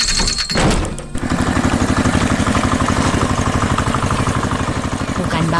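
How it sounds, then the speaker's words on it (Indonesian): A red tractor's engine in a 3D animated cartoon starts with a thunk, then chugs loud and steady in an even, rapid pulse. "Wah, lihat traktor merah itu datang."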